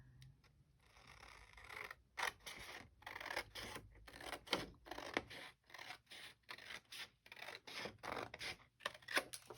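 Scissors snip through paper for a collage, a quiet, close series of irregular crisp cuts and rustles with short pauses between them.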